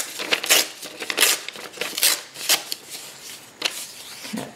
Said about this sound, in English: I'm going to tear it.